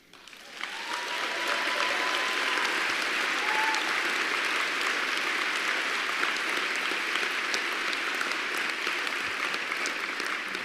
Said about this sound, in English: this clapping makes me feel like Obama